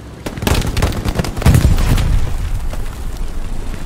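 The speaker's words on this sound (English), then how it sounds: "Oh, the tank shot." A tank cannon fires in the World War II shooter Hell Let Loose, a heavy boom with a deep rumbling tail, loud and near, among other battlefield bangs, with no talk.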